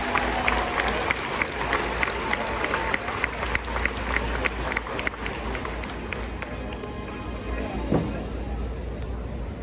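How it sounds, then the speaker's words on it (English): A grandstand crowd at the Iowa State Fair applauds six-horse hitches of Percheron and Clydesdale draft horses, with sustained, fairly loud clapping and crowd noise over a low rumble in a large outdoor arena. "give all of our 6-horse hitches a nice round of applause"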